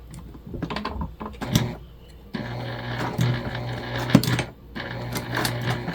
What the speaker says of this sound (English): we're just going to top stitch these other three sides onto the panel